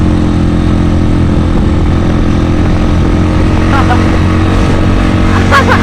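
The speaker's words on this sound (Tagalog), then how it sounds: "Malakas talaga ng motor niya." A loud, steady motor engine drone fills the whole stretch, with a faint rise near the end as it passes close by.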